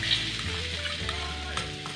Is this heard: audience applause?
no